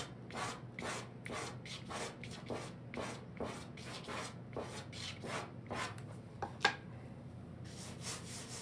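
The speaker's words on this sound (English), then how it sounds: "rubbing in a circular motion, kind of sort of up and down, but I want it to sink in that sandpaper" Chalk rubbed into sandpaper in a circular, up-and-down motion makes steady rasping strokes, roughly twelve in a regular rhythm, close and fairly quiet, with one sharper scrape near the end.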